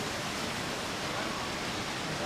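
Steady broadband rush of falling water at Khun Korn Waterfall, a continuous even roar filling the short stretch with no distinct voices over it.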